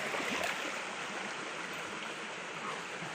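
A small countryside stream where people wash clothes and bathe flows with a steady broadband rush and gurgle, continuous and moderately close, with no talking over it.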